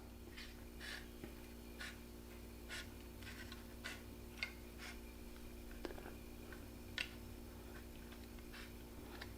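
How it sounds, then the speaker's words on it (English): Quiet, scattered snips and clicks of scissors trimming a taxidermy ear liner, irregular and close, over a low steady background hum. "I'm going to take my scissors and I'm going to trim this out"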